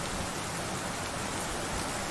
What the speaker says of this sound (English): Love the sound of rain, relaxation.